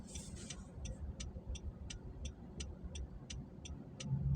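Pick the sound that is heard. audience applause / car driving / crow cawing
car driving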